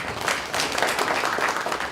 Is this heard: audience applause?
yes